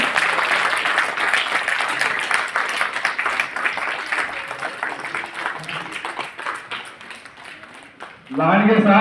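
A large audience at a convention center applauds loudly and continuously, dense rapid clapping that fades slightly before a voice starts speaking at the end.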